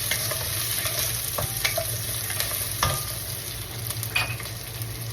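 Spare ribs being stirred in a hot iron wok for sweet and sour ribs, a steady close sizzle of frying with scraping utensil strokes and clacks against the metal, no talking.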